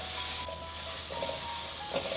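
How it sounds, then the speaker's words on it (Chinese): Fermented black beans and rock sugar stir-fried in hot oil, a soft continuous sizzle with light spatula movements and brief louder bursts near the end, no talking. "鹰豆豉这时候透过油这样子炒，会激发出满满的香气"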